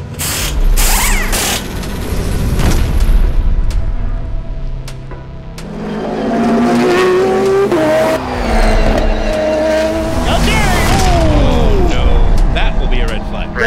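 A race car at Le Mans sounds loud and close, its engine note rising and falling through gear changes, with mechanical whine and ratcheting and a driver talking over it.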